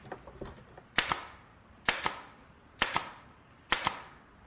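Nail gun driving nails into hard wood: four sharp, loud shots spaced roughly a second apart, each snapping then quickly decaying, with faint small taps before the first.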